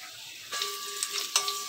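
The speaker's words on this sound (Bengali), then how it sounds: "আলুগুলো আমার ভাজা হয়ে গেছে" Potatoes fry in a pan with a faint hiss that swells into a brighter sizzle, with a couple of quick stirring scrapes near the end.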